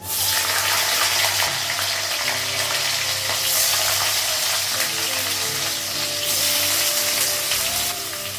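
Potatoes with panch phoron spices and green chili fry in oil, producing a loud, rushing sizzle that is steady and dense throughout, with brief shifts in intensity.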